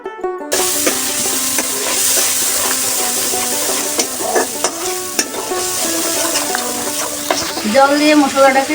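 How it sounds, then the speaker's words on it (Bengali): Spice paste with dried chilli sautéing in a pan, a loud, close sizzle with intermittent scraping stirs, and a brief voice near the end. "কষিয়ে নিব যেন না পুড়ে যায় মশলাটা কষতে থাকুক"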